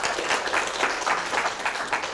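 Dense, steady applause from an audience at a motivational talk fills the whole stretch, many hands clapping at once with no voices over it.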